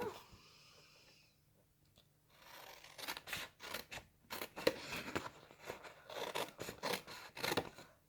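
Scissors cut rectangles from paper in a quick series of crisp, close snips and rustles after a quiet pause.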